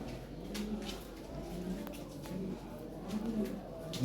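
Lahore siraji pigeons coo softly in low, repeated throaty murmurs, faint against a steady background hum, with possible distant voices.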